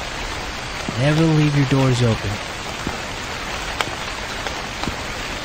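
Steady rain falling outside a store in the video game The Convenience Store, a constant soft wash of patter throughout, with a voice speaking briefly over it early on.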